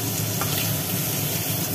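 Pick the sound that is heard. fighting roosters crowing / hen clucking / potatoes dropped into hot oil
potatoes dropped into hot oil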